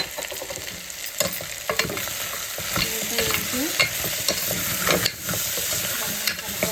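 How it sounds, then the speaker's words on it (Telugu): Green chillies and cumin stirred into mutton paya soup frying in a pot, giving a steady close sizzle with repeated scraping stir strokes and clatters throughout, no voices. "ఇదిగోండి, పచ్చిమిర్చి, కొంచెం జీలకర్ర అది కూడా వేస్తాను."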